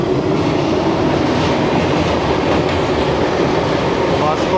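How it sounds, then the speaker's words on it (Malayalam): Twin WDG4 diesel locomotives from the Hubballi shed haul empty wagons, giving a loud, close, continuous rumble of engines and rolling wheels that fills the whole stretch. "ഇപ്പോൾ ജിൻഡാലിൽ നിന്ന് MT വാഗൺസോട് പുറത്തോട്ട് വന്ന ട്വിൻ WDG4 ആണ്."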